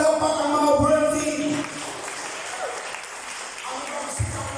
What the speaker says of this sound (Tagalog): Pumalakpak ang mga worthy.